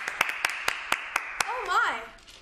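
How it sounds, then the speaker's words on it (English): Several sharp, evenly spaced claps ring out close by, a short burst of applause, followed by a brief voice speaking. "You all deserve a big round of applause."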